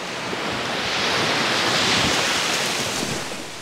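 Surf washing onto a beach at Ustka, Poland: a steady broadband roar of breaking waves that swells and eases, mixed with wind buffeting the microphone, with no voices.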